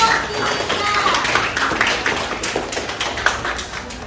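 Classroom clapping from a group of students after a correct answer in a lesson on the kidneys and excretory system, a dense, steady patter of many hands with a few voices mixed in.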